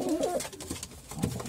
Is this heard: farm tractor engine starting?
no